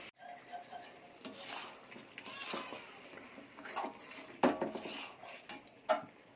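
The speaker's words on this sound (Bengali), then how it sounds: "ভালো করে নাড়াচাড়া করতে হবে" Chicken for a chicken rosa curry stirred in a pan, with repeated metal spoon scrapes and clanks against the pan over a soft frying sizzle.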